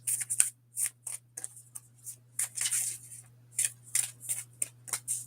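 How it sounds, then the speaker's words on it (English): A deck of cards is shuffled over and over, quick papery riffling bursts in an uneven rhythm with short pauses between them, close and fairly quiet, with no talking. "I'm gonna give this 3 more shuffles"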